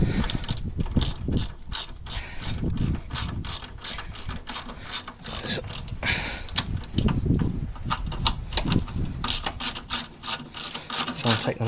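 Rapid clicking of a ratchet driving a 12mm socket to tighten a car suspension bolt on a Toyota Estima during a stabiliser bar bush and link change. The clicks run in close bursts with short pauses, near and steady.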